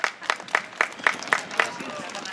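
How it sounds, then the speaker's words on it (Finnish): An audience claps in a lively burst of applause after an aerial acrobatics act at a funfair, with distinct, evenly spaced hand claps ringing out close by. "Annetaan aplodit tästä upeasta suorituksesta."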